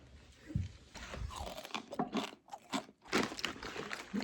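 Close, crisp crunching of dry carrot granola with nuts being bitten and chewed, a rapid series of crackly bites with brief pauses between them.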